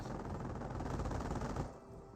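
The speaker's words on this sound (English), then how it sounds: "And STG squad's receiving quite a bit of rifle fire there." Rapid rifle fire crackles continuously in a Company of Heroes battle, a dense fairly quiet volley of shots lasting under two seconds before it tapers off.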